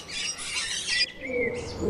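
A parrot gives harsh, raspy screeching calls, loud and close, with a brief break before a second grating squawk.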